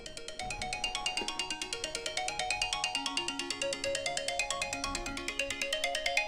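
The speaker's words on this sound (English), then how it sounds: "Let's answer the phone." A telephone ringtone for an incoming call plays a steady repeating electronic melody for several seconds, loud and alone with no voices over it.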